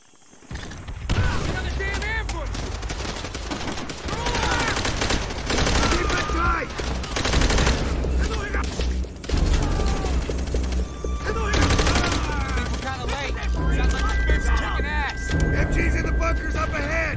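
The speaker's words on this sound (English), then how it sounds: "MG's in the bunkers up ahead!" Sustained machine gun fire from enemy bunkers in the video game Call of Duty: World at War, a dense continuous rattle of shots that runs loud and unbroken, mixed with battle noise and voices.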